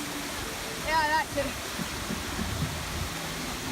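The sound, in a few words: waterfalls at Animal Kingdom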